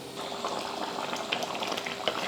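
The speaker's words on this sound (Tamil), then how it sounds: "இப்போ இது நல்லா காயெல்லாம் வேகட்டும்" Vegetables simmering in a pot of sambar rice, a continuous close bubbling and gurgling boil with small wet pops, steady throughout with no talk.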